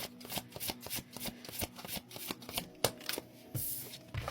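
A deck of cards being shuffled in repeated crisp riffles and snaps, close and fairly soft, with no voices.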